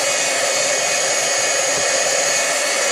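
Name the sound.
hair dryer drying sponged ink on a mask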